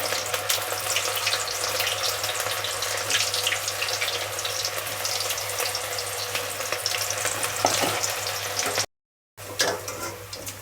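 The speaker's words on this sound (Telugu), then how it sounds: "ఒక్కొక్కటిగా విడివిడిగా వేసుకోవడం వల్ల బాగా ఫ్రై అవుతాయి చూడండి" Cauliflower florets for gobi manchurian fry in hot oil, dropped in one at a time, making a steady dense sizzle that runs throughout with a brief dropout near the end, and no talk.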